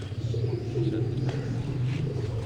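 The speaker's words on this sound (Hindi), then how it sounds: "पहला कबूतर आपको उस्ताद इमरान नदीम साहब दिखा रहे हैं" A pigeon coos at a pigeon flying competition, low soft repeated cooing close by, with background chatter and ambient noise.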